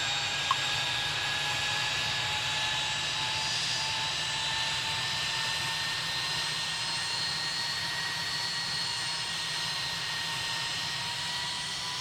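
Jet airliner taking off at Cleveland Hopkins airport in the air traffic control game Tower! Simulator 3, a steady loud whining engine roar with high tonal whistles held throughout, no voices.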